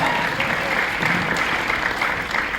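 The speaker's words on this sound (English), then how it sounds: "much like you're all applauding for the event" An audience fills a convention hall with continuous applause at the Midsummer Scream panel on Queen Mary's Dark Harbor. The dense, even clapping is loud and sustained throughout, with no clear voices over it.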